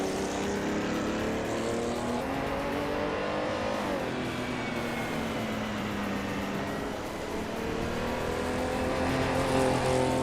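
Racing cars' engines in a racing video game, a continuous dense drone of several engines whining and shifting pitch as they pass, steady and loud with no talk.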